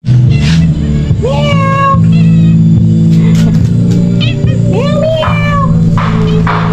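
A cat meows loudly several times up close, rising drawn-out cries over a steady background hum, with someone speaking briefly.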